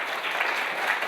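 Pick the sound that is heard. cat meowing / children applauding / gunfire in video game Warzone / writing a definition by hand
children applauding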